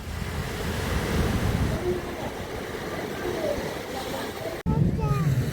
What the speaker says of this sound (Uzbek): Mana to'lqinlar yotibdi.